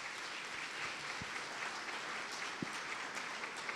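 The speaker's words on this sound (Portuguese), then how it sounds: "Vai ser recebido também com a mesma salva de palmas." Congregation applauding in a church, a dense, steady round of clapping from many people with a couple of sharp low thumps partway through.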